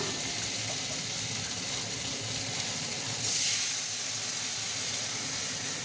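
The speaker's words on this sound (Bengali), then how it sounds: "এবার আমি জল দিয়ে দিচ্ছি" Water is poured into a pan of frying mustard-chili paste, giving a steady close sizzle and hiss that swells briefly midway, with no voices.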